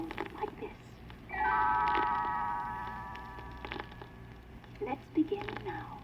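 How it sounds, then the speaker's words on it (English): A small, high tinkling bell chimes in a bright, sustained shimmer for about two seconds as a page-turn cue for a read-along storybook, set between stretches of a narrator's voice. "You will know it is time to turn the page when Tinker Bell rings her little bell like this."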